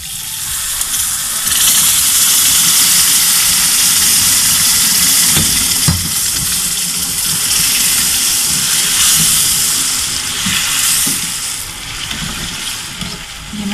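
Five cups of water are poured into roasted semolina and sugar in a pan for halwa, giving a loud continuous rushing, sizzling hiss that holds steady before easing off near the end.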